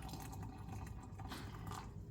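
Hot water filling a container for coffee, a quiet, continuous rushing pour with faint gurgling variations, heard close and alone.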